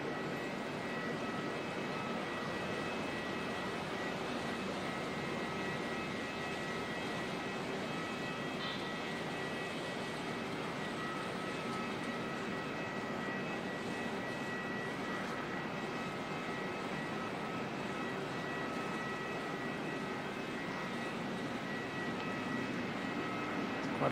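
An airliner lands in gusty crosswind at Auckland Airport, heard as a steady, dense engine roar and rumble that holds throughout without clear peaks.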